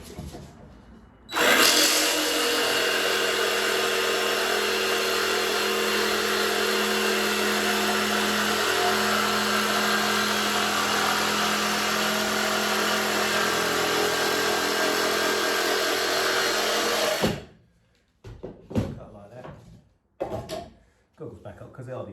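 Jigsaw cutting laminate flooring during a bathroom floor fit: a loud, steady power-tool whine runs unbroken for about sixteen seconds close by, then cuts off, leaving a few brief knocks and handling noises.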